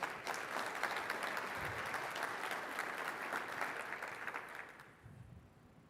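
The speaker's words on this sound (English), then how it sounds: "big applause to you" A keynote audience at the Acronis CyberFit Summit 2021 gives sustained applause, a dense patter of many hands that fades out toward the end.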